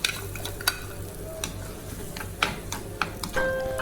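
Marrow curry stirred in a pan, with a faint low sizzle broken by several sharp spatula taps and scrapes against the metal, ending in a brief higher tone, no speech.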